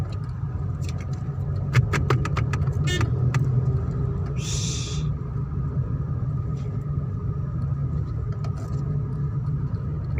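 An automatic car drives forward on a road, its engine a low steady rumble throughout, with a brief burst of clicking and a short hiss partway through, and no talking.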